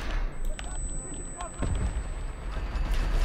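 Explosions and gunfire crack and boom in the battlefield game Enlisted, several sharp blasts in quick succession over a noisy rumbling background.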